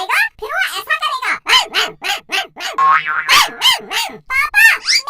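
A person imitates a dog barking in a rapid string of sharp, loud yaps. The yelps come one after another at close range, with a voice mimicking the sound throughout.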